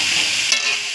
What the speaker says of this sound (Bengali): আলুটা ভেজে নিচ্ছি 5 মিনিটের মতো।